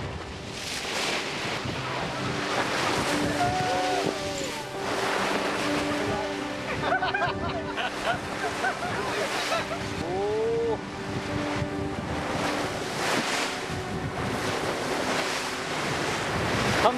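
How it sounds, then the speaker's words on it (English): Strong waves and gusting wind on the open sea off Iceland, heard from a boat heading away from shore. Steady surf wash and buffeting wind noise fill the whole stretch at moderate loudness, swelling in several surges. "바다로 나가니까 파도도 세지고 바람도 더 거세져요."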